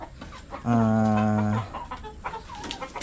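Darag native chickens on a Philippine farm, one bird giving a loud, drawn-out cluck or crow-like call lasting about a second, close by, with softer scattered farmyard sounds around it.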